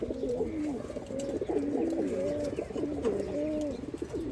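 Several pigeons coo steadily in a loft housing Chila and Giribaj flying-line birds, their overlapping rolling calls continuous and close throughout.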